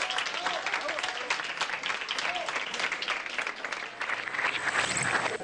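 A room full of people breaks into dense, sustained applause welcoming newcomers at a school, loud and steady for several seconds with some voices mixed into the clapping.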